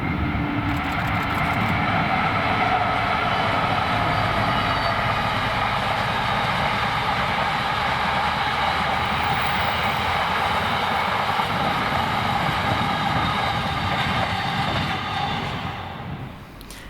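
Freight train 6S36 hauling oil tank wagons from Dalston toward Grangemouth passes steadily and loudly close by for the full length, a sustained rolling rumble with wheel and rail noise that eases slightly only at the very end.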